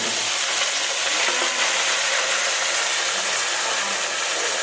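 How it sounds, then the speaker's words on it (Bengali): Eggplant sizzles loudly in a hot pan, a dense continuous hiss of frying with faint stirring scrapes throughout and no talking. "এবার দিয়ে দিলাম বেগুনগুলো"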